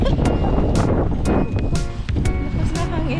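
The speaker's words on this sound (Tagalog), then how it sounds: "Ang lakas ng hangin." Strong wind gusts outdoors in Mississauga, Canada, near a superstore, buffeting with loud, rough bursts that rise and fall throughout.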